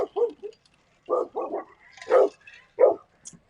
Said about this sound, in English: The dogs are saying hello.